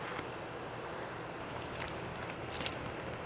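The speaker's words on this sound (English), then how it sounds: "It's a little windy out here today." Wind blows across an outdoor picnic table area on a fall day, a steady rumbling gust with low buffeting against the microphone and a few brief rustles and knocks, no one talking.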